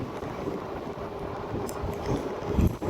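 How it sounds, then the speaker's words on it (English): Strong wind buffets the microphone outdoors beside an electric bike, a continuous rough low roar with gusts swelling toward the end. "oh, a lot of wind out here today."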